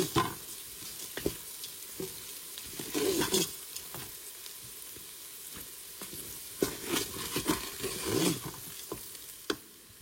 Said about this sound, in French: J'ajoute l'équivalent d'une grosse cuillère de beurre. On va laisser fondre.